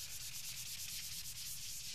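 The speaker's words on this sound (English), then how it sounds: "sanding by hand the surface." Hand sanding of a polyester resin clear coat on a guitar body with a Mirka Abralon foam pad, a steady close scratchy rubbing that continues evenly without pause.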